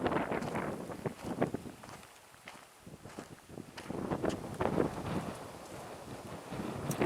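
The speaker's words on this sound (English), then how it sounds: "Yeah, it's a little windy." Wind gusts across the shore of Lake Superior, buffeting the microphone in a rough, uneven roar that rises and falls through the clip, briefly easing before strengthening again.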